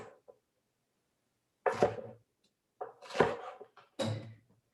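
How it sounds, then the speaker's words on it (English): Vegetables for taco bowls are chopped on a board in a home cooking class, giving a few scattered, fairly close knife thunks separated by pauses. "How are you guys doing chopping away for those that are cooking?"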